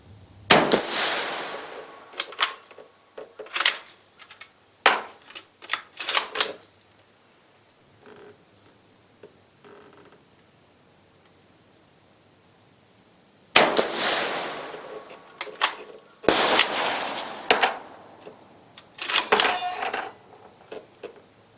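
A Carcano M91/24 rifle fires reduced-charge rounds outdoors in several sharp, separated cracks, some close together, some after long quiet gaps, with faint handling noise between shots and no talk.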